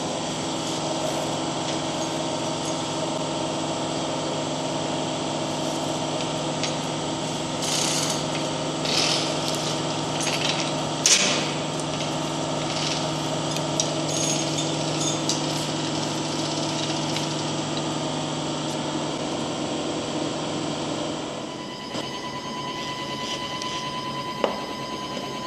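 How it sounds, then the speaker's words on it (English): A turret mill runs steadily in a workshop, a continuous mechanical whir and hum with tonal whine, occasional rattles and ticks, shifting in tone near the end. "a turret mill."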